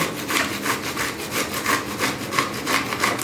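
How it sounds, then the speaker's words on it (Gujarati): Fresh corn is rubbed against a coarse grater in steady back-and-forth strokes, a rhythmic raspy scraping about three strokes per second, close and fairly loud, with no talking. "હવે મકાઈને આપણે છીણવાના છે"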